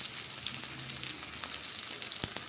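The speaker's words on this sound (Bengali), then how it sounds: "পেঁয়াজটা আগে ভাজা ভাজা হোক" Onions frying in oil in a wok give a steady, close hiss of sizzling with small crackles, plus a few sharp knocks near the end.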